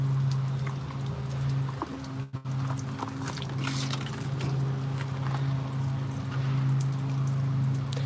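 Water drains slowly from a travel trailer's plumbing while it is winterized, a steady, faint trickling and pattering with a constant low hum underneath, no talk over it.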